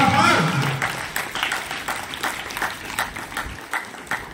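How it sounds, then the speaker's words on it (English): Audience clapping at a school investiture ceremony, a scattered, uneven patter of hands that carries on steadily with voices mixed in, following a short stretch of louder talk at the start. "Why don't we put our hands together for her?"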